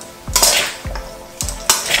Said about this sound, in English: We're gonna mix up the salad with our tongs.